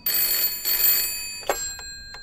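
An old-style telephone bell in Layers of Fear rings in two strident bursts, followed by a few sharp clicks, loud and close in a quiet room.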